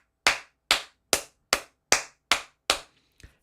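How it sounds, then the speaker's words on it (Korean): Seven slow, evenly spaced hand claps ring out close and crisp, each sharp and isolated against silence, followed by a faint softer clap at the end; a single person clapping rather than a crowd. "박수 한번 줄까요?"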